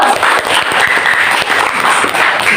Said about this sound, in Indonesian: Beri tepuk tangan dulu untuk Pio.